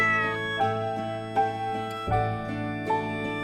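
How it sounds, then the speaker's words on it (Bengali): A cat meows several times in a steady rhythm, each call clear and fairly loud over a continuous tonal background. "মিউ শব্দে বিড়াল ডাকে মিউ"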